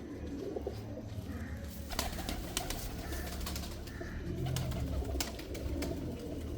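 Pigeons, Lal Pari and Salare Teddy rain pigeons kept by a breeder, coo repeatedly and close by over a steady, noisy background, with no talk in between.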